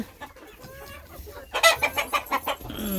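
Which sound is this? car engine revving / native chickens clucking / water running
native chickens clucking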